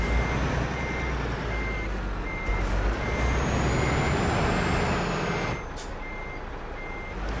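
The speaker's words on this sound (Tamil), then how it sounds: "நம்ம ரிவர்ஸ் பண்ணிக்கலாம்." A truck reversing in Euro Truck Simulator 2 sounds a steady series of evenly spaced reversing beeps over a loud diesel engine rumble, with a brief air-brake hiss near the end.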